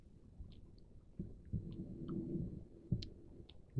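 Close, crunchy chewing of caramel popcorn (Cracker Jack), with scattered crackly bites and mouth noises at a quiet, steady pace.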